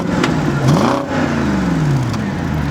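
A BMW 645ci's 4.4-litre V8 petrol engine revs up and falls back, a close, loud mechanical whir rising in pitch and then easing down to a steady idle.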